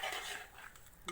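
Carrot halwa being stirred in a pan with softened grated carrots and roasted khoya, a brief, faint scraping and shuffling of a spoon against the pan.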